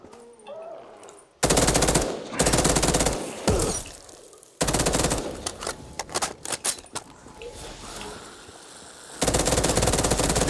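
Rapid automatic bursts from a G36K rifle in Call of Duty Black Ops 3 zombies, loud rattling fire in several separate long bursts with short pauses between.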